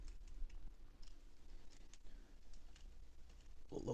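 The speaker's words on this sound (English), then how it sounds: "Wait till he finishes typing here." Quiet keyboard typing in a room, with soft scattered key clicks tapping irregularly at low level before a louder burst of sound at the very end.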